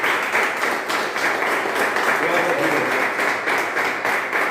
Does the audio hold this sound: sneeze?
no